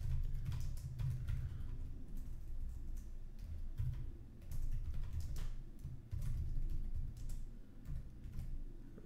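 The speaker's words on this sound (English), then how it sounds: "Let me type that in." Close keystrokes on a computer keyboard patter in an uneven run of soft clicks over a steady low room hum.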